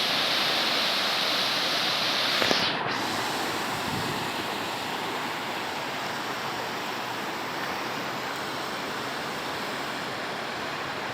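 Big waves break steadily along a bay shore in stormy weather, a continuous loud roar of surf mixed with gusting wind noise on the microphone, with no voices present.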